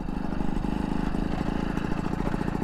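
A Vespa Ciao moped with a newly fitted engine idles steadily nearby, a low, even putter with a fast regular pulse and no revving.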